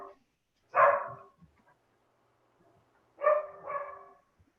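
A dog barks a few times indoors during an online meeting, two separate short bursts with a quiet gap between them, moderately close.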